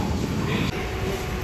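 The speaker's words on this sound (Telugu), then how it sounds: "అదిగోండి ట్రైన్ వచ్చింది" A train pulls into a Tokyo station, a steady close rumble and rolling rail noise with a brief clunk partway through, and no talk.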